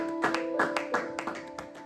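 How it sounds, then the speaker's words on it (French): Scattered clapping from a church congregation at a French and Portuguese worship conference in Dijon, soft and fairly distant, a few uneven bursts of claps with quiet gaps between. "Applaudis très fort au nom du Seigneur"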